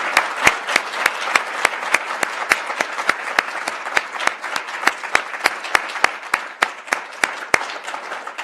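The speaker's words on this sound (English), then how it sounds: "So one last round of applause for Hal and Carol," An audience applauds at a university professorship introduction ceremony. Loud, close individual claps stand out in a regular rhythm over a full bed of crowd clapping that continues throughout.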